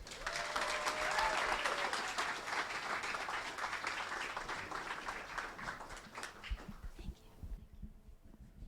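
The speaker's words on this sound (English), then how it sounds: "Please give a big round of applause to all of the researchers on the first half of the show" Audience applause for researchers at an Ignite Talks event, a full burst of clapping that swells early and gradually thins out to scattered claps before fading, with light murmuring underneath.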